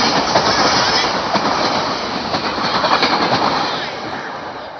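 A commuter train bound for 30th Street rolls past at Elkins station, loud and close, with a steady rumble of wheels and rail clatter running throughout and no voices.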